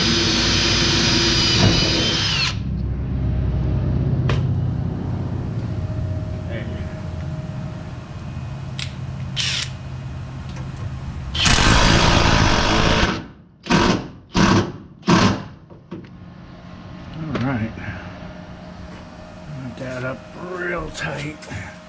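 MIG welding of plug welds on a 1977 Pontiac Trans Am body, a steady crackling buzz of the arc in longer runs, then several short bursts, with a voice talking over the shop noise.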